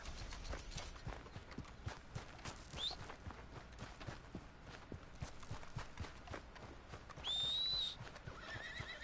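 In Red Dead Online, a horse's hooves clip-clop steadily and close over a quiet background, with a couple of brief whinnies and snorts along the way.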